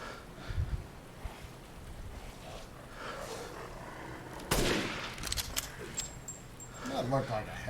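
Gunshots in the game Resident Evil Village: a sharp shot at mid-clip followed by a couple of quicker cracks, set against low background noise and some talking.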